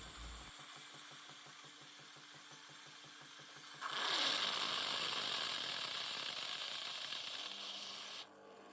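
A steady mechanical hum with rhythmic pumping gives way to a louder hissing, frothy flow as milk dispenses from a Philips LatteGo 5400 coffee machine, then it stops.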